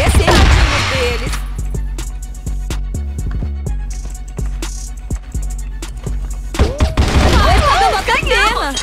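A rapid burst of sharp gunfire from an M700 rifle in a video game, with crisp repeated shots and booms, followed by excited voices talking and cheering.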